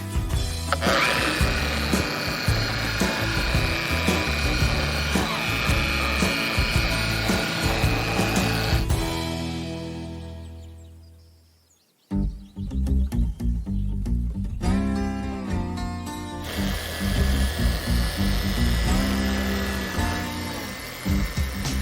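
A power buffer works over the body of a Rebel car under restoration, a loud steady rubbing whir that runs for about ten seconds, drops to near silence, then resumes.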